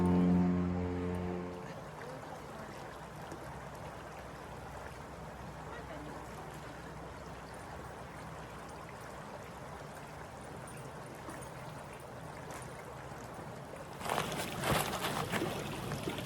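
Box Canyon Creek flowing through woods, a steady broadband rush of water running throughout, with a brief low hum at the start and a louder splash of turbulence near the end.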